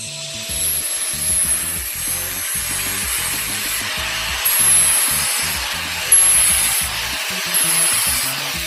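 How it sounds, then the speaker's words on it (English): An angle grinder shaves down the tough metal edge of a hydraulic handbrake adapter on a BMW Z4, a steady close grinding hiss with rhythmic scraping strokes and brief louder bursts as it bites in. "I hope the grinder will wear it down because I suppose it's a pretty tough material"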